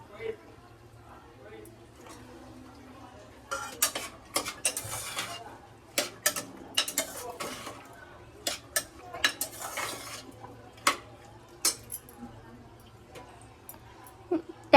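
Cooking ingredients, including cauliflower and cashews for pulao, are mixed in a pot. A spoon scrapes and clinks against the metal in irregular bursts that begin a few seconds in, close and distinct.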